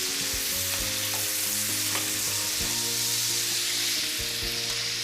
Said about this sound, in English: I'm going to stir this, and I'm going to let this saute for 3 to 4 minutes until the onion is just short of browning.